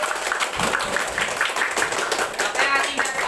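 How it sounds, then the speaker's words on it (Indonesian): Students in a classroom clap together in a dense, continuous round of applause, with voices mixed in among the clapping. "Tepuk tangan yang meriah kalau kalian senang dengan pembelajaran hari ini"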